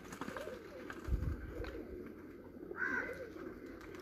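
Pigeons coo softly in a loft, a low throaty murmur rising and falling amid faint background noise.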